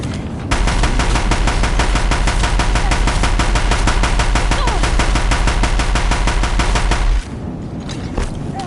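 Deathbringers' rapid machine-gun fire in a video game: a long, steady, loud stream of evenly spaced shots with a heavy low rumble, running about seven seconds before cutting off abruptly to quieter ambience.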